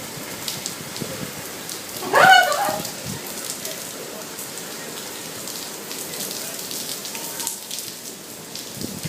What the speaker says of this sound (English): Everybody's running from the rain, and Jessica, get out of the road!